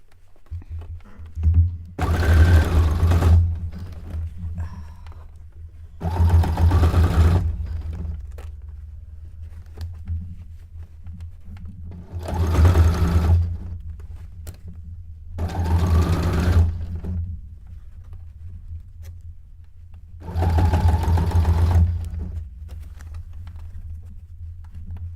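A sewing machine stitches fabric for an avant-garde cone-shaped cape and dress, running in five separate bursts of steady motor whirring and needle patter with quiet pauses between, close and loud, with no talking.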